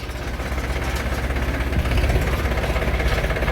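A farm tractor engine runs close by with a heavy, continuous low throb and rhythmic knocking pulse, steady and loud throughout with no talk.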